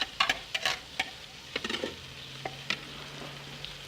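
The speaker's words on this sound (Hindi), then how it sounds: "अब हम इसमें टमाटर, मिर्च और अदरक डाल देंगे" Tomatoes, chillies and ginger tipped into frying chicken, giving a run of soft clattering stirs and scrapes over a low, steady sizzle, fairly quiet and close, with no voices.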